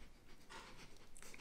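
A person imitates a sniffer dog, sniffing and panting quickly in short breathy bursts. The sound is faint and close, fills about a second and a half, and has no words.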